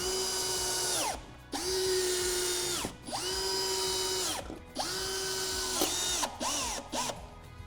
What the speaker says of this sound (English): we're going to use the 3 screws that we took out from the plate at the beginning, along with 2 additional ones supplied to secure the motor to the frame.